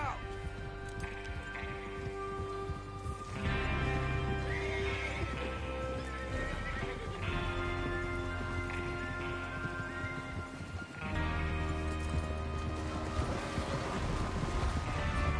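In a western train-robbery video game, horses whinny and neigh loudly while hooves clip-clop beneath, the neighs recurring in several bursts across the stretch over steady background game sound.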